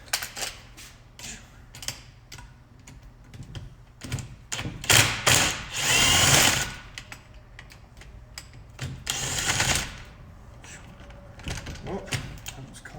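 Metal clicks and ratcheting accompany work on the E14 reverse Torx bolts of a Toyota 7.5-inch front differential, with bursts of scraping and rattling as the tool turns and bolts loosen. Speech can be heard in between.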